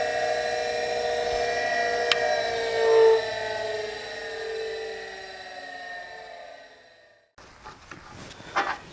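A shop pin and punch grinder hums with a steady, whining motor tone, then winds down to silence, followed by a few faint clicks and handling sounds.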